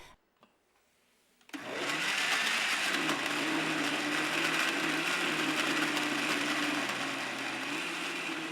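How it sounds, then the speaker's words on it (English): A blender whirs up curry paste ingredients with water, starting abruptly after a quiet moment and then running loud and steady, with a grinding motor drone that shifts slightly in pitch as it churns. "Now blend everything together until you have a well-mixed liquid paste."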